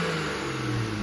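A BMW 335i with an aftermarket VRSF exhaust revving, a raspy mid-pitched engine note climbing and held, close and steady.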